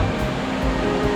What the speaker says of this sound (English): Just the roar of the waterfall,